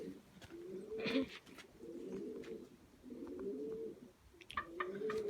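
Domestic pigeons cooing in a loft, several soft, low rolling coos in a repeating rhythm, close and clear with faint chirps in the background.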